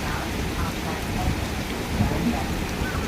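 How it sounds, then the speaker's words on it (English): Steady, dense rain pours throughout, with a low rumble beneath that could be distant thunder, close and fairly loud with no clear pauses. "Rain, rain, go away."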